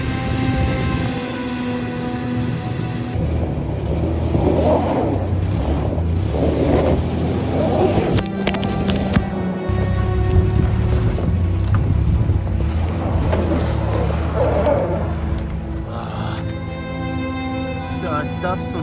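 A van's engine revs as its wheels spin, stuck in snow in the freezing Appalachian wilderness, with a steady roaring drone and wind noise throughout and a person talking over it.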